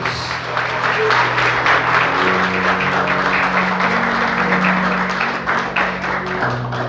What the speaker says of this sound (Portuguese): Aplauda Jesus com muita alegria.